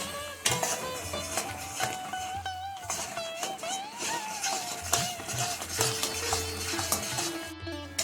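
Elephant apple pickle with garam masala being stirred in a pan, producing steady scraping and clinking of a utensil against metal under background music.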